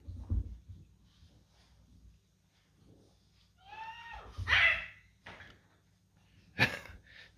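A French bulldog playing with bubbles gives a few short, scattered yips and barks, mostly soft with one sharper outburst near the end, amid quiet pauses.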